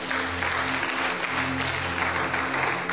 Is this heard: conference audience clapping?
yes